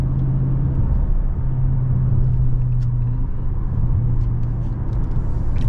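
A 500 hp Dodge Scat Pack drives along, heard from inside as a steady deep engine drone and road rumble with a slight rise in pitch, loud and continuous with no voices.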